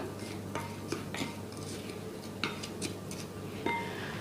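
A large spoon stirs two ingredients, one of them granulated sugar, together in a bowl, making light clinks and scraping taps against steady background hum, with several sharper knocks.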